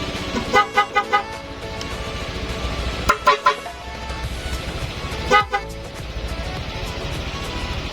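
A motorcycle fitted with both a push horn and an air horn sounds repeated horn blasts in short bursts, several rapid toots grouped together with pauses between, loud and near.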